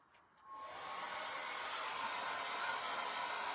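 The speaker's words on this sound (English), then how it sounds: "I'm gonna dry that just with my dryer." A handheld hair dryer blows steadily on freshly painted Dollar Tree craft pieces, switching on and rising within half a second, then holding a close, even whooshing hiss with no talk.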